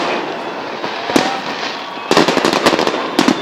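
A city-day fireworks salute crackles outdoors, with a steady rumble of distant bursts, then a rapid cluster of sharp cracks and pops that grows louder toward the end.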